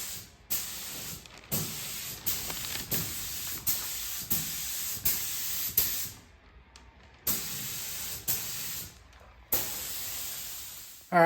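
Spray paint hisses onto the engine bay of a Superbird car in a workshop, in about eight short, close, loud bursts separated by brief pauses.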